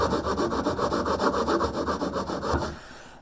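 Hand saw rubbing back and forth through MDF, a steady rhythmic rasp of repeated strokes up close, stopping abruptly near the end.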